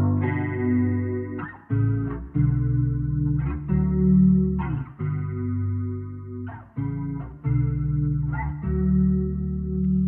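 Electric bass played through a Valeton GP200 multi-effects unit on its deep preset with reverb, chorus and drive: sustained low notes re-struck every couple of seconds, thick and shimmering, with reverb tails and no talking.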